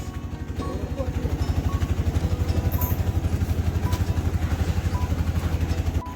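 An auto rickshaw's engine chugs with a fast, regular thumping pulse on a village road in the Konkan, loud and close, holding steady throughout without voices.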